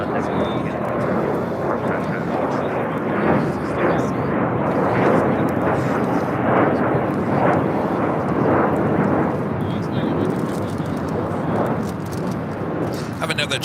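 Jet engine roar from a China Airlines Cargo Boeing 777 freighter at LAX, a loud, continuous broadband rumble that holds steady throughout, with talk underneath.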